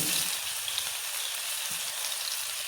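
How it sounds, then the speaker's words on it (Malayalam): Bitter gourd shallow fries in a pan with a dense, even sizzle and crackle at close range, steady throughout with no talking. "നമുക്ക് കൈപ്പൊക്കെ ഒന്ന് പൊരിക്കാൻ വേണ്ടി വെക്കാം കേട്ടോ നല്ല ഫ്രൈ ആവണ്ട ചെറുതായിട്ടൊന്ന് ശാലോ ഫ്രൈ ആയാൽ മതി"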